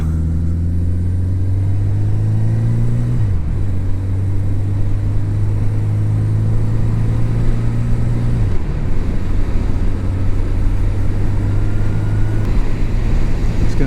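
A 1980 Yamaha XS 1100 Special motorcycle rides along a gravelly road, its engine droning steadily and loud with steady wind noise, dropping pitch at two gear shifts, with no talk.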